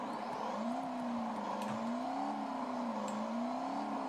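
A car in the BeamNG.drive driving game speeds toward the player, its engine a steady, sustained whine whose pitch wavers gently up and down as it closes in, with no voices present.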